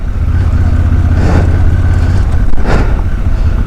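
Strong crosswind gusts buffeting a motorbike rider on a road through the Himalayan high desert of Ladakh, from Leh to Hanle: a loud, steady roaring rumble that swells in two brief surges, with no voices.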